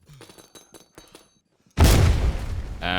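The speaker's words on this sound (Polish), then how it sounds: "chyba była eksplozja, ale nie dostaliśmy" In a video game, after some light clicking and tapping, a sudden loud boom erupts and rumbles on for over a second, with a crackling debris-like tail.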